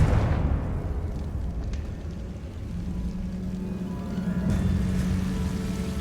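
Confringo spell explosion in Hogwarts Legacy: a loud, booming burst at the start that rumbles and decays into a low, sustained roar with a steady hum underneath.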